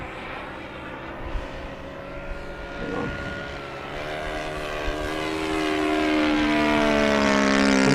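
An FMS 1700mm Corsair V3 RC warplane with a new propeller on a 6s/8s battery comes in to land, giving a steady buzzing propeller drone that grows louder and higher toward the end. Someone speaks briefly.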